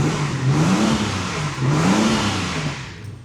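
A six-cylinder race car engine revs in the garage, rising and falling twice in loud, close swells of throaty engine roar, with no talking.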